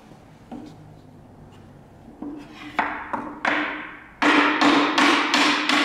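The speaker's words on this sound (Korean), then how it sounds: "망치 같은 거로 끼워 넣으면 되죠." Wooden dovetail joint being tapped together with a hammer: a string of sharp wooden knocks, sparse at first and then coming faster and louder, close by with no talk.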